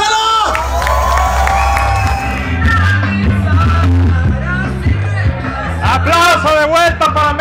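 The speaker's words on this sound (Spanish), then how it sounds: "Un fuerte aplauso, por favor, para su host, Adrián Marcelo." At a comedy show in Mercado Revolución, a crowd cheers and shouts loudly over thumping music to welcome the host. Excited whoops rise repeatedly above the steady roar of the audience.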